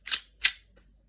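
WE airsoft pistol firing two sharp snapping shots in quick succession, close and crisp, followed by a faint click.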